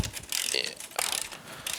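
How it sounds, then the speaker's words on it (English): A ratchet clicks while loosening the lower castle nut during ball joint removal on a Yamaha YXZ1000 side-by-side. It gives quiet bursts of fast, fine clicking with brief pauses between strokes. "Get that lower castle nut removed."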